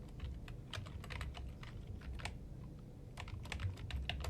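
A computer keyboard is typed on at close range while signing in to a student account, its quick, uneven clicks running continuously over a low background hum with a brief pause partway through.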